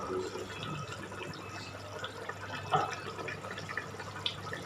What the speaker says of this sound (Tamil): இன்னும் ஒரு 6 கிளாஸ் அளவுக்கு தண்ணி இதில் நான் ஊற்ற போகிறேன்